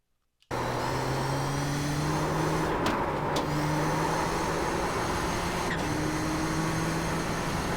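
A Nissan GTP ZX-T race car in the iRacing game screams at full throttle around Suzuka, its engine note starting abruptly and holding a loud, steady high-pitched drone with brief shifts and small pitch steps.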